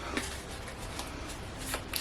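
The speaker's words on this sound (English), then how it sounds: "But we're gonna shuffle." A deck of playing cards being shuffled by hand, clumsily mixed and smushed around, giving soft continuous riffling and rustling with a few sharper flicks, close by and without talk.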